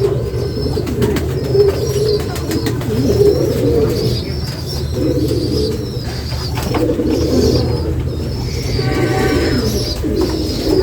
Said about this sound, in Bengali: কবুতর বাইরে যায় ভিতরে আসে